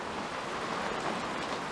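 Rain in the desert patters as a steady light sprinkle over a porch, a soft continuous hiss of fine drops heard up close with no talk.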